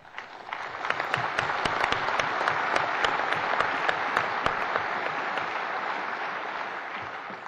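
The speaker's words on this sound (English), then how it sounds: "that applause is for you" Steady, dense applause from an audience at the Pennsylvania Society Gold Medal Award ceremony for Arlen Specter, loud and sustained throughout with no speech over it.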